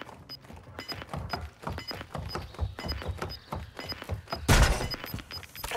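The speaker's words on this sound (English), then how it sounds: "Planting bomb at Bravo." A bomb is planted in Call of Duty: Modern Warfare II, heard as a run of rhythmic clicks and thumps with steady beeping, then a heavier thud and rustle near the end, all close up.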